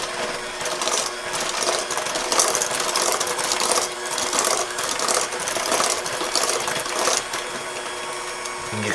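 Electric mixer beating apple fritter bread batter, a continuous loud mechanical whirring and rattling held steadily throughout, close up with no talk.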